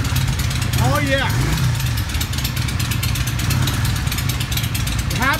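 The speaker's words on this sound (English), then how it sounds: "Wow, listen to that bike. Rev it." A Yamaha V-Star 650 motorcycle, freshly back from a carburetor repair, revs loudly and close by. Its harsh, buzzing engine roar holds steady throughout, with a brief voice breaking through near the start.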